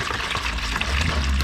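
Rust remover liquid poured from a jug into a container, a continuous close splashing gush that swells slightly as the stream builds, with no talk.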